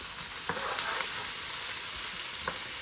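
Stir-fried rice with seasoning sizzles in a hot pan, a steady bright hiss of frying with a few soft clicks of stirring, close and continuous.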